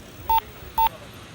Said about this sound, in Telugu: మా ఇంటికి ఒకసారి ఫోన్ చేసుకోవాలి.